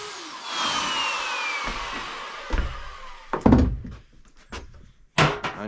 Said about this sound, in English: At least with the router, I get a nice, clean, crisp line.